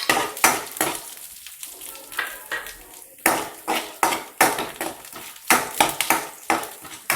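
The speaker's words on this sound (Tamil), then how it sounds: "ஸோ எண்ணெய் காஞ்சதுக்கப்புறம் கடலைப்பருப்பை போட்டு நல்லா தாளிச்சுங்க." Chana dal and garlic being tempered in hot oil in a pan for beetroot chutney, with repeated metallic clinks and scrapes of a spoon against the pan over a soft, steady sizzle, loud and close.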